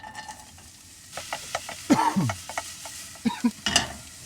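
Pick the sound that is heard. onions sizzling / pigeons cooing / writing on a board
onions sizzling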